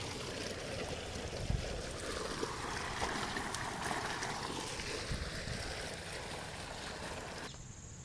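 Irrigation water flows steadily through a channel on a Gujarat village farm, a continuous gentle rush and trickle, moderately close with no breaks.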